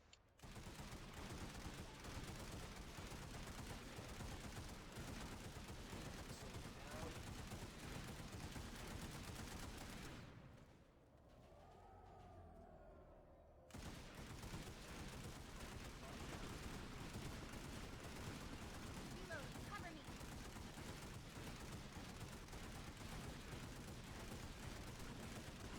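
Sustained rapid gunfire from the game Planetside 2 rattles almost without pause, broken by a short quieter gap of a few seconds before the dense burst fire resumes at full loudness.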